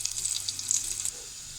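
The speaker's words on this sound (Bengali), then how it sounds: "রসুন কুচি আর শুকনা মরিচটা এখন ভেজে নেবো লাল করে" Chopped garlic and dried red chillies fry in hot oil for bottle gourd dal, a bright crackling sizzle that fades after about a second into a softer hiss.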